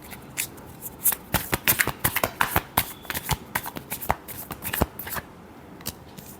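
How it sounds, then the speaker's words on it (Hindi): Tarot cards are shuffled by hand in a quick run of crisp riffling snaps and flutters, close and fairly quiet, with no talk over it. "Last shuffle."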